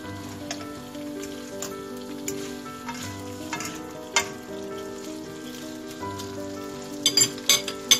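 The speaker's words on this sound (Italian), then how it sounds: "Lasciamo circa un minuto e mezzo girandoli sempre" Large prawns frying in a hot pan while being stirred, a dense, close sizzle with occasional crackles and scraping taps, growing busier with sharp pops toward the end.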